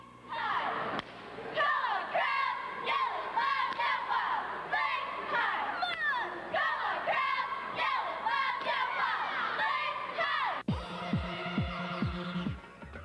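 A high school girls' cheerleading squad, the Lady Wildcats of Wild Lake, shouts a loud rhythmic cheer in unison with sharp claps and stomps, ending in a burst of yelling.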